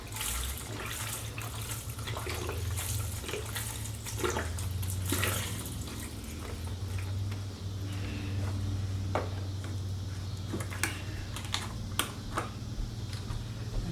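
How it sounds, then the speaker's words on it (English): Chicken broth poured into an Instant Pot makes a soft, steady liquid stream against the pot, fairly quiet and continuous, with a few light clicks and knocks. "So it calls for 6 cups of chicken broth. I'm gonna pour 4 in here now."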